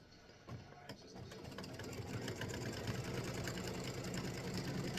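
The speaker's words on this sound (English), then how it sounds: "color stop number 6 is going to stitch a line, which is a 1/4 inch seam" An embroidery sewing machine stitches a quarter-inch seam for an in-the-hoop mug rug side panel, a steady close mechanical whir and rapid needle chatter running continuously without talk.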